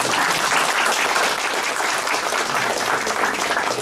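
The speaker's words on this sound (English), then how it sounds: "I think I deserve a good round of applause from all of you." Dense, steady applause from a seminar audience fills the whole stretch at a loud, even level.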